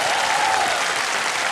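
Studio audience applause on the Hindi quiz show KBC (Kaun Banega Crorepati) Season 16, a dense, steady wash of clapping filling the room at full, even loudness throughout.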